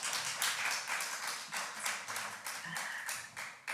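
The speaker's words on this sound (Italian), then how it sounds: "grazie Silvia Simoncelli, fare un applauso" An audience applauding together, a dense steady clatter of many hands clapping for a few seconds.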